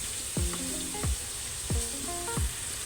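Prawns fry lightly in a pan with a steady, close sizzle, marked by a few short squeaky sweeps from stirring at regular intervals.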